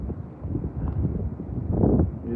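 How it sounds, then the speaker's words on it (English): Wind blowing straight into the microphone on a mountain hiking trail, producing a muffled low rumble that buffets and surges louder near the end. "It's really windy"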